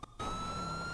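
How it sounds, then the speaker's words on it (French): A police car siren blares in a video game, a steady high electronic wail that starts abruptly after a brief dip and holds loud and continuous. "Mais enlève les sirènes!"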